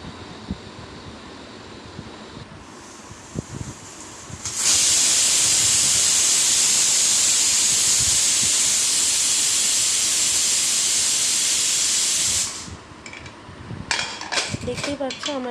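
A pressure cooker holding mutton curry with meat masala lets off a loud, steady hiss of steam that starts abruptly, holds for about eight seconds, then cuts off, with faint kitchen clatter before and after.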